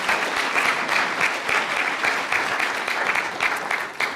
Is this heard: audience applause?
yes